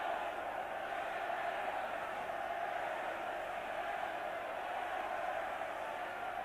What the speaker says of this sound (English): Suddenly the Welsh crowd have found their voice.